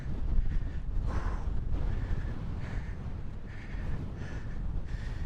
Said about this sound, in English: It's an incredibly strong wind.